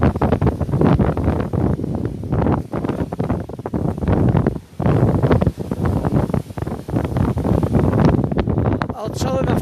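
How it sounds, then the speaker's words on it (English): Wind buffets a microphone outdoors at a casting event, a steady rumbling roar under voices talking throughout, with brief lulls. "We don't get any wind at all. Oh, God. Trying to keep the wind off."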